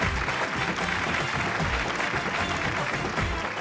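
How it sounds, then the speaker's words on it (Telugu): Steady, dense applause from an audience fills the whole stretch, loud and even with no pauses. "చప్పట్లు కొట్టండి."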